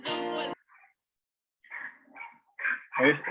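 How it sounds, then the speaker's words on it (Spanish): A dog barks twice behind someone teaching a Spanish-language online physics class, loud and close, followed by quieter, scattered yips and whines. "¿Se escucha el perro atrás?"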